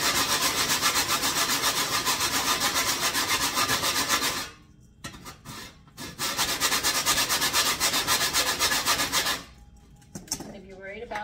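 Toasted bread is grated into breadcrumbs, a loud close rasping scrape in fast rhythmic strokes, broken by two short pauses before the grating resumes.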